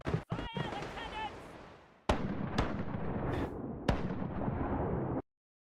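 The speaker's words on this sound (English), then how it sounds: "Fire the cannons." Ship cannons fire in a pirate video game as heavy booming blasts with long rumbling decays, several shots in succession, while voices speak faintly early on.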